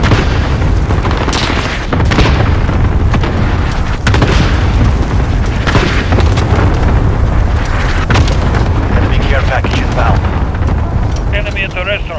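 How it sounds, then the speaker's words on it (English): Allied cruise missile strikes in Call of Duty: Modern Warfare land as a rapid series of loud, deep booms and blasts, one after another, with gunfire crackling between them and a game announcer voice over the top. "Allied cruise missile launched"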